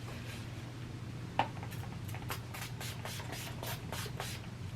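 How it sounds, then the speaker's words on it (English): Urban Decay All Nighter setting spray comes out in a run of short, soft, hissing pumps after one sharp click, faint and close against a steady low hum. "take a setting spray such as the All Nighter from Urban Decay, and you're going to spray it all up in there"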